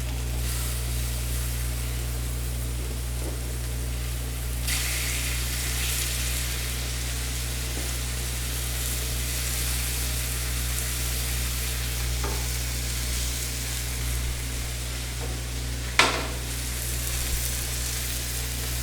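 Food sizzles as it fries in a hot pan, a continuous close hiss with a steady low hum beneath and a few sharp clicks or clanks along the way.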